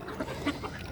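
Backyard flock of ducks and geese calling, a few short quacks and honks in quick succession, moderately close and fairly soft.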